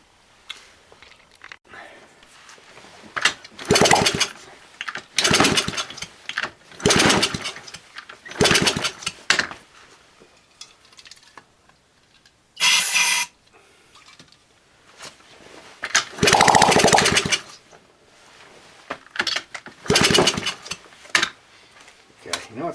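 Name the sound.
1970 Honda Z50 motorcycle engine running at raised idle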